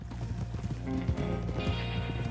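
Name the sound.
horses trotting and neighing in Red Dead Redemption 2 video game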